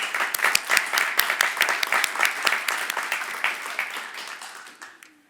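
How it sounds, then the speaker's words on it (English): A crowd at a graduation ceremony breaks into lively applause with distinct sharp claps. It holds strong for several seconds, then gradually fades out toward the end. "Let's give these guys a rousing round of applause one more time."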